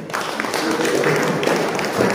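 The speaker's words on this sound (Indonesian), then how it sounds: "Tepuk tangan sebetul" A church congregation claps during a sermon, a steady wash of applause with a voice briefly audible over it.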